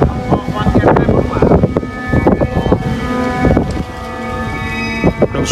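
Strong wind gusting outdoors and buffeting the microphone in a steady loud roar, with people talking over it.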